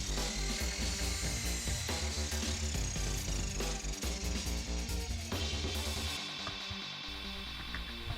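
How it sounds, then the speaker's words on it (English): A power miter saw cuts wood boards into 12-inch front faces for a child's tool box, its loud motor whine running continuously with repeated surges and shifts in pitch as blades bite, then easing slightly toward the end. "To start on the miter saw, I cut the first 2 12-inch front faces."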